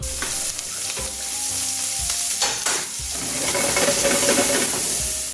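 Pasta tossed into onions sizzling in extra virgin olive oil, a loud continuous frying hiss with intermittent stirring clicks and scrapes, close and steady throughout.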